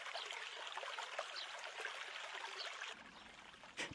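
Steady trickling and sloshing of water as a porcelain tray is dipped back in to rehydrate during traditional Chinese porcelain tray making, continuous and close, easing to a quieter wash near the end with a brief splash.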